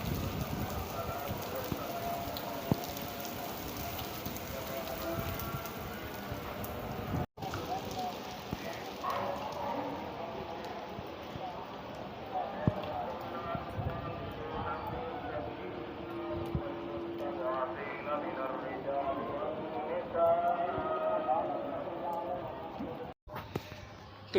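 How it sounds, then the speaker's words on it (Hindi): Rain and hail falling together on a sunny day, a steady broadband patter with scattered sharper hits running throughout, close and fairly loud, with a voice speaking over it at times. "धूप भी हो रही है, बारिश भी हो रही है और ओले भी पड़ रहे हैं साथ।"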